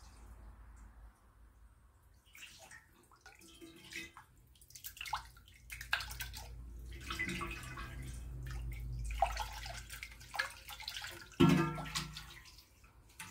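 Water mixed with baking soda poured onto a stainless steel griddle, a splashing, gurgling pour that builds in the middle and ends with a sharp clink, close and moderately loud.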